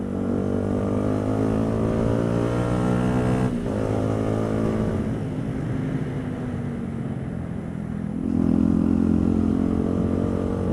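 A motorcycle cruises along countryside roads, its engine a loud, steady drone heard close up from the rider's position, with a brief dip around a gear change and a louder surge of revving toward the end, no voices present.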